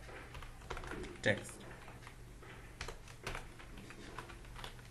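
Keyboard keys clack in fast, uneven runs while HTML code is typed into a computer, with one louder tap standing out among steady close-up key clicks.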